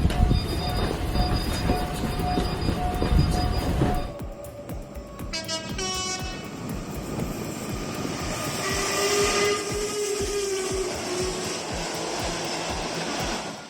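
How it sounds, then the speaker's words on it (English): Two trains speeding side by side on a Japanese rail line, a loud close rumble with a brief sharp whoosh and tonal whine as they pass, then steady rolling noise and a rising squeal. "Two trains speeding side by side, moving in perfect sync."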